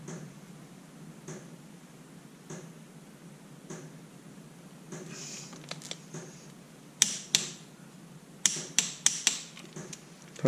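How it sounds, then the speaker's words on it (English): Sharp metallic clicks from a small torque wrench tightening bolts on a KTM motorcycle, a few isolated at first then a quick cluster of loud close clicks and ratchet snaps over a low ambient hum, no talking. "This little torque wrench for torquing any bolts on the bike."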